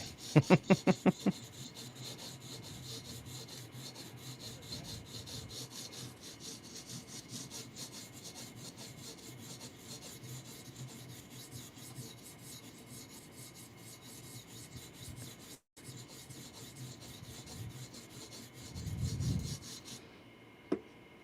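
A knife is worked over an 80-grit abrasive in repeated rasping, scraping strokes, with a brief pause partway through and a louder burst near the end. No one speaks.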